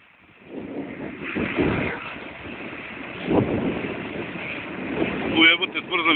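Strong, cold wind gusts across an open field where a tractor is ploughing, buffeting the microphone in uneven surges while someone talks.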